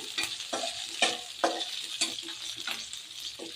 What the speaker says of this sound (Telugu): అందులో పచ్చిమిర్చి వేసుకొని కొద్దిగా రోస్ట్ చేసుకోండి.